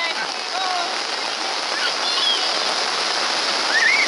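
Heavy rain falls steadily during a trek near Ratnagiri, a constant broadband hiss that stays even throughout, with a few faint bird-like chirps above it.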